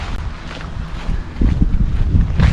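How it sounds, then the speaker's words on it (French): Gusty wind blows outdoors beside a small lake, buffeting the microphone in a loud low rumble that swells stronger halfway through, with no talking. "Et franchement c'est joli, regardez ce vent."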